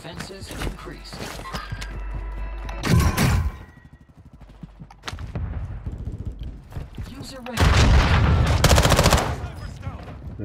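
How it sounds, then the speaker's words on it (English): Rapid automatic gunfire from the video game Warzone, loud bursts of shots with thuds and clatter, heavy volleys near the start and again near the end, with players talking over the game sound. "Kakko, you have to see how I shoot this guy, man."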